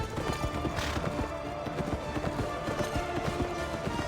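Hooves of a horse gallop steadily in the video game Kameo, a rapid continuous clatter mixed under dense game music and ambience, with no talk.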